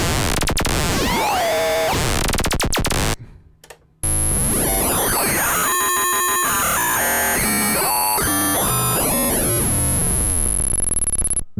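A Korg Monologue synthesizer plays harsh, glitchy digital noise as its LFO waveforms change, with sweeping and stepped buzzy tones, a brief drop to near silence partway through, then loud chaotic modulation.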